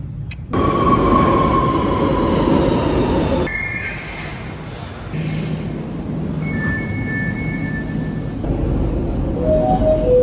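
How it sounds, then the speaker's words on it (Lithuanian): A metro train in Spain runs with a steady loud rumble, high metallic whines rising and falling as it moves, and sharp squeals near the end. "2 minučių važiuosiu metro."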